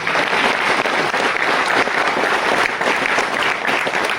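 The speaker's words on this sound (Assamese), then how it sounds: "ছাৰৰ বাবে এটা হাত চাপৰি দিব লাগে।" Students clapping hands together for their teacher at a gathering, a continuous, loud, dense burst of applause from a crowd that holds steady throughout.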